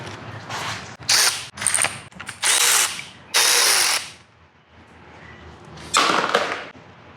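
Crankshaft pulley bolts come off a seized BMW N51 engine in several loud, close bursts of whirring mechanical ratcheting, each lasting about a second, with brief quiet gaps between.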